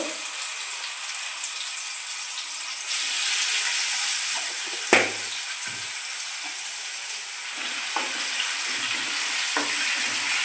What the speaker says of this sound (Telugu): అదే నూనెలో రెండు టేబుల్ స్పూన్ అల్లం పేస్ట్ వేశాను